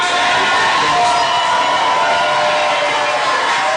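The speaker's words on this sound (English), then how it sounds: "the folks in the background who are clapping and cheering" A large crowd cheers and claps in a dense, continuous roar of whoops and shouts that stays loud from start to finish.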